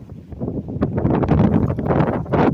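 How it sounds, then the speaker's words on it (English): Strong gusts of wind from an approaching storm buffeting the microphone, a loud rumbling roar that swells and surges throughout. "It's getting really windy, and the storm is starting to roll in."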